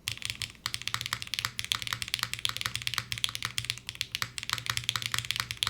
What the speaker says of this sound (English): These are Keygeek raw switches